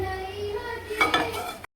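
Spices stirred in a pan for tempering, a short burst of metal spoon scraping and clinking against the pan over a light sizzle, close and fairly quiet.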